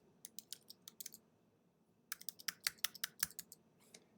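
A phone number is typed on a computer keyboard: two quick bursts of light key clicks separated by a short pause, close and quiet.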